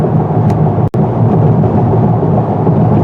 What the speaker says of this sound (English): you can probably hear some of the rumbling on the microphone here